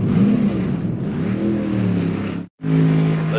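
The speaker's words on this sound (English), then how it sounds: "you hear the roar of the Xfinity car, and honestly, it sounds fantastic" A loud NASCAR Xfinity race car engine in a video game roars and revs steadily, pitch rising and falling, with a brief cut to silence before the engine noise resumes.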